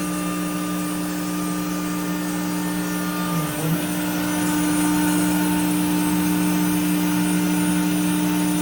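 The spindle of an AXYZ 4010 ATC CNC router warms up in a workshop, giving a loud, steady whining hum with sustained tonal lines that rises slightly midway and then holds constant.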